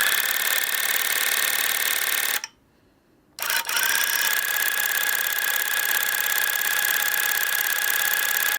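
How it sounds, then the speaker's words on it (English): AK-I tufting gun running at its lowest speed, a loud steady mechanical rattling whir that cuts out for about a second and then starts up again, continuing evenly with no voices. "Here's the audio of my AK1 doing its thing"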